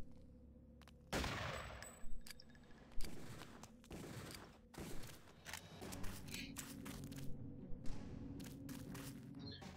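Gunfire in the video game Deus Ex: several sharp shots spread across the stretch, each followed by thuds and footsteps, loud and close, with no speech over them.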